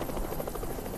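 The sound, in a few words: helicopter flying over in Project Zomboid video game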